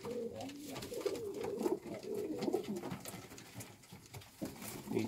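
Homing pigeons coo in soft repeated low burbling calls, several birds overlapping nearby, fairly quiet with a rustling background.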